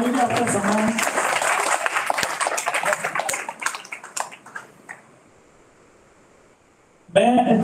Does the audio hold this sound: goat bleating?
no